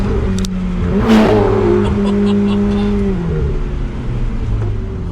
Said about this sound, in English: that fantastic engine and gearbox bouncing off the rocks and the buildings as I drive by